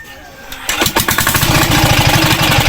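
A small outboard boat engine catches after a short crank and settles into a loud, close, rapid putter that runs steadily to the end, with no voices.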